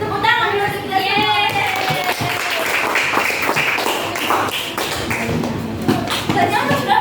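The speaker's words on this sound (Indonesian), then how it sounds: "Tepuk tangan dulu kita semua." A classroom group claps together, the dense patter of many hands running steadily throughout, mixed with children's voices and chatter over the top.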